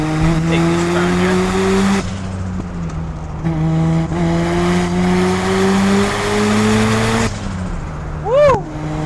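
Tuned 417-horsepower Mazda RX-7 FD3S rotary sports car drives hard, its engine droning and shifting pitch while accelerating, then the tires give a brief squeal near the end as it takes a turn, loud and close.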